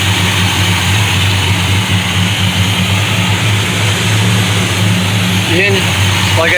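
A car engine idles steadily after a rebuilt Thermoquad carburetor is fitted, a constant low rumble with a broad hiss on top, close and loud, with brief faint sounds near the end.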